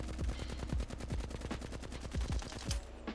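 A Flatline rifle in Apex Legends fires full-auto bursts of evenly spaced, punchy shots. The rapid rhythm is loud and close, with no talk over it.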